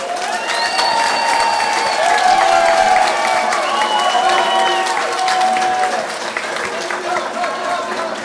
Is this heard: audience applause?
yes